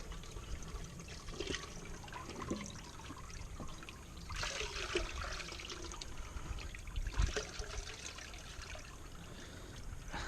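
Water runs and trickles steadily over gold-bearing tailings collected from under a mat and couch, a close, continuous rushing wash with a few sloshing surges.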